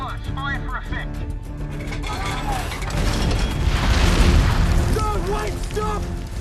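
Artillery shells exploding danger close in a Vietnam war film, a deep rumbling roar that swells and peaks midway, heavy and near, with shouted voices over the blasts.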